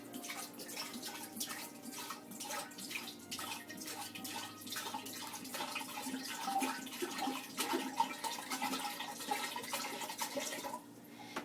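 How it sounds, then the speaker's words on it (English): Four liters of water poured into a homemade Trinidad ginger beer mixture, a steady splashing and gurgling stream running close by for several seconds before stopping. "So she's adding 4 liters of water to this mixture."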